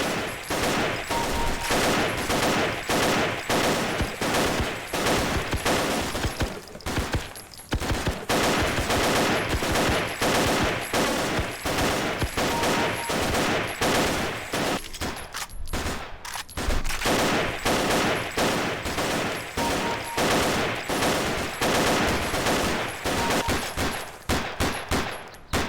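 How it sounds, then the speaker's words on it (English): An APS automatic pistol fires in the video game Paranoia, a long run of rapid, evenly spaced shots, loud and close, with only brief pauses between bursts. "The actual rate of fire of an APS is much higher than that, as you might imagine."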